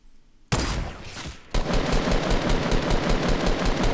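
Rapid automatic gunfire in Fortnite Battle Royale, a dense burst of repeated shots starting abruptly, pausing briefly, then resuming as a loud continuous rattle with no talk over it.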